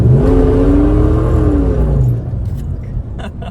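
A Holden Commodore VS with a 5-litre V8 revs hard as the transmission cable kick-down engages, a loud close rising engine note that climbs then eases off over a few seconds.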